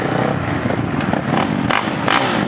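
Kawasaki motocross race motorcycles on a hillside track, engines droning steadily with rising revs and crackles, loud and close throughout without voices.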